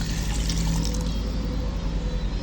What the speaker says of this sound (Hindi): हम पानी डालेंगे। बिस्मिल्लाह हमारे 1 लीटर हमने पानी लिया है।